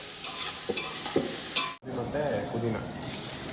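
Onions frying in a pan with coriander and mint, a close steady sizzle with stirring scrapes and a brief cut midway, no talk over it.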